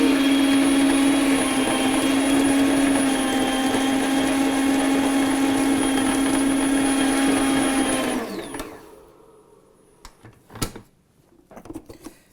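Rare Hobart HL6 stand mixer running with a loud, steady motor whine and hum, close up, for about eight seconds before it winds down and stops, followed by a few faint clicks and knocks.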